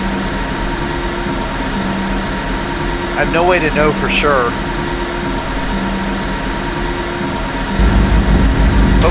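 Santa Fe Express train in a railway video game running steadily with a continuous rumbling rail drone and faint squeals, while someone talks over it.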